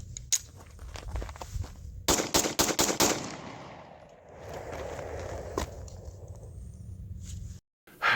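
A Combat Armory CA19 pistol firing from its factory Magpul magazine: one early shot, then a quick string of about five loud, close shots, followed by a few scattered later shots and outdoor background.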